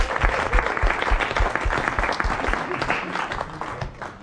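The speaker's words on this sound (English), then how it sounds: "Could we please give a round of applause, especially just after completing 5 weeks of A-level exams?" A crowd applauds graduating high school seniors at a ceremony, dense steady clapping close by that holds for several seconds and slowly thins toward the end.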